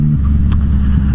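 A Yamaha MT-09 motorcycle being ridden on a test run, a loud steady engine rumble close up with a brief bump partway through, no talk.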